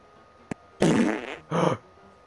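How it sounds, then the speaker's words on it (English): A fart in the Red Dead Redemption 2 video game: after a brief click, two loud, close, sputtering blasts follow one after the other, the first long and the second shorter. "You fart again?"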